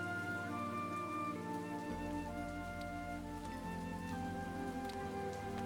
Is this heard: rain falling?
yes